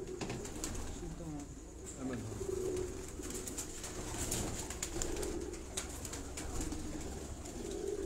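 Sultan, a rooftop racing pigeon, coos in low repeated throaty bursts amid steady outdoor background noise, with faint chirps and distant voices in the surroundings.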